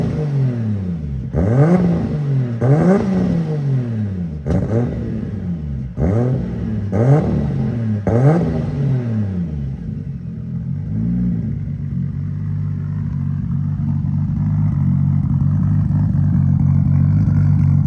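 A BMW fitted with a Toyota Supra 2JZ engine revving hard, loud and close, with about six sharp blips rising and falling in quick succession before settling into a steady rumbling idle.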